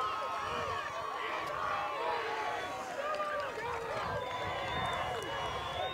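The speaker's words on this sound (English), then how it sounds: "And this crowd is loud on both sides of the field." A high school football crowd at a Class C South final roars from both sides of the field, a continuous distant wash of cheering and shouting beneath a commentator's voice.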